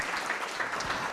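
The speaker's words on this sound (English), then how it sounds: "You can clap, kindly clap." Audience clapping during a university award announcement, a short burst of steady applause at moderate loudness with no voices over it.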